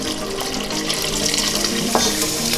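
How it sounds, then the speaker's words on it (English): About two cups of beef stock poured into a pot of thick gravy for braised short ribs, a steady close splashing and trickling of liquid throughout. "We're going to go ahead and add our beef stock."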